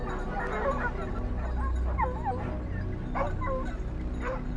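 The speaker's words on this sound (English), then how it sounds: "Scott, along with his pack of hunting dogs, moves steadily uphill" A pack of hunting dogs barks, yips and whimpers in a steady, overlapping clamour on a forested hillside during a wild boar hunt, loud and continuous throughout.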